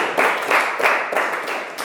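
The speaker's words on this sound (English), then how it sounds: "Clap for him," Primary school pupils clap together for a classmate in a classroom, a short burst of rhythmic group clapping with regular pulses, fairly close and clear.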